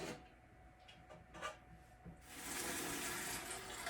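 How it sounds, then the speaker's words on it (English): Water from a pot of boiled eggs pours out into a sink, then a tap gushes steadily as cold water refills the pot, close and fairly quiet. "now we're going to carefully drain the water out and refill with cold water so the eggs will stop cooking and cool off"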